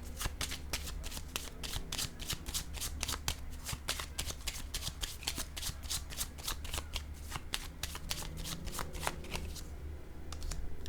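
A deck of cards being shuffled for a card reading, with continuous rapid riffling and flicking of cards, close and steady throughout.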